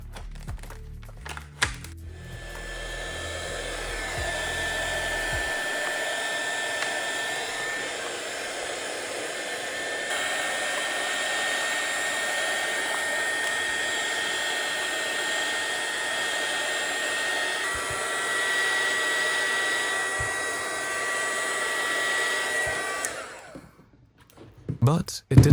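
A heat gun blows steadily while shrinking an 83 mm heat shrink sleeve over a homemade 6S2P FPV battery pack, a constant loud airy whir for about twenty seconds before cutting off near the end.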